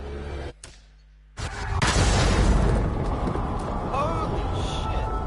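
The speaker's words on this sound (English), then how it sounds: "Straight into the game and there's already an explosion?" An explosion in the Hidden Agenda video game, a loud booming blast that breaks in after a brief lull and rumbles on as a sustained roar with crackling debris.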